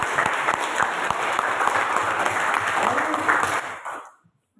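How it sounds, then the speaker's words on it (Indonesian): Loud, dense applause from a classroom of students fills the room steadily, then cuts off abruptly near the end. "Kita tepuk tangan dulu"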